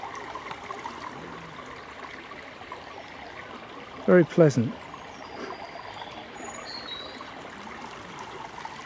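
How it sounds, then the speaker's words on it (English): A brook gurgles softly and steadily beside a churchyard on a countryside walk near Guildford, with a brief spoken remark midway. "The gurgling of the brook"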